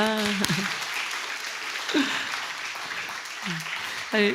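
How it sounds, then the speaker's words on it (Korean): A church congregation applauds the young children at a morning service, steady moderate clapping running under the whole stretch while a voice talks over it in bursts. "우리 다음 세대인데 박수 한번 부탁드리겠습니다"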